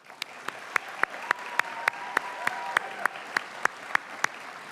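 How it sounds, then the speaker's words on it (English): Faint applause at a physician assistant program's white coat ceremony comes through as sharp, evenly spaced claps in a steady rhythm over a low hum of room noise. "So I'd just like to take an opportunity to give a round of applause."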